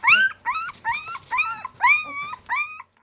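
Newborn puppies whimpering close by, six high, wavering cries that rise and fall in short bursts with brief pauses between, fading to quiet at the end.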